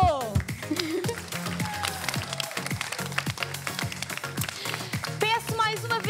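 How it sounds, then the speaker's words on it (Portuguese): An audience at the Miss Teen Portugal and Mrs Portugal 2020 gala claps for the pageant finalists, a steady patter of many hands with a few cheers rising near the end. "Peço mais uma vez um forte aplauso para estas jovens lindíssimas e finalistas"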